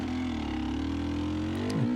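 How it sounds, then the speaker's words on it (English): A small two-stroke 300 motorcycle lugs slowly up a desert mountain track, its engine labouring at low revs with a steady droning tone that dips near the end, close and moderately loud. "The poor little 300 there is a little bit struggling,"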